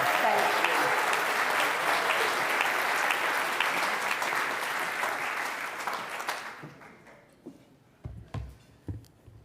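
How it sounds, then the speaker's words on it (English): Audience applause at a Rotary club toast ceremony, a loud sustained roar of clapping from a large crowd that holds steady, then fades out over the last few seconds, leaving a few scattered claps. "please join me in congratulating and recognizing our newest Paul Harris Fellow for one more round of applause for Gladys DeVane."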